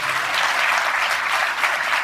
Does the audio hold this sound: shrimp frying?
no